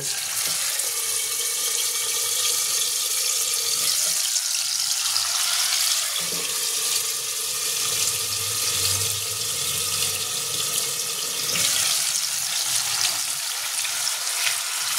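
Marinated chicken pieces frying in hot oil, a loud continuous close-up sizzle and crackle that swells and eases slightly over time, with no voices.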